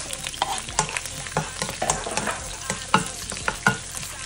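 Garlic and onion sautéing in hot oil in a pan, a loud close crackling sizzle broken by frequent sharp clacks and scrapes of a spatula stirring, no voices.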